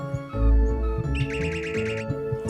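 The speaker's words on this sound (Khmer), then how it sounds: "វាជាសំឡេងរបស់សត្វរំពេកំពុងច្រៀងនៅលើដើមឈើ" A songbird in a tree sings bright, close chirps and a rapid trilling phrase over a soft tonal musical background, with no talking.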